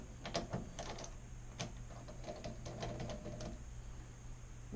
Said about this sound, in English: Yeah, it is the T15 Torx head driver. Put it in there and go ahead and just unscrew them.